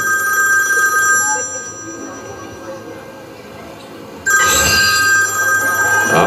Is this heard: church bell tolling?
no